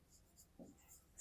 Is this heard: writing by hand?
yes